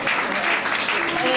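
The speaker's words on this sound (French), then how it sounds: "Vous les applaudissez s'il vous plaît." An audience at a French-language event in Orléans applauds. The dense clapping is loud and continuous, with a voice speaking over it.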